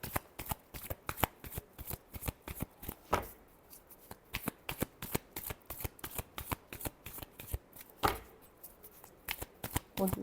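Tarot cards are shuffled in a rapid run of crisp riffling snaps and soft slaps, steady and close, with two fuller bursts where the deck is bridged, and no voices.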